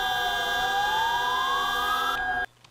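Memorial siren sounding across Turkey at 9:05 on 10 November, a loud sustained wail slowly rising in pitch over a steady hum, then cutting off abruptly near the end.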